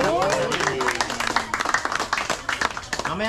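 A small group claps in quick, uneven bursts at a birthday gathering, close and lively, while voices talk and shout over the applause.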